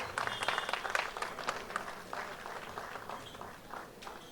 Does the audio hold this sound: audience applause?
yes